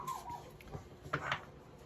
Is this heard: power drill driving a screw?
no